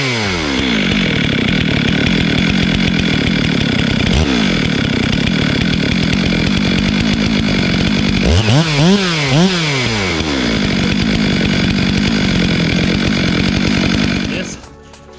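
A chainsaw engine runs loudly and close, idling roughly, then revving up and down in the middle before cutting off at the end.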